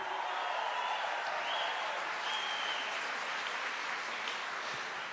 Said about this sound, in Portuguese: Pode aplaudir, pode fazer barulho.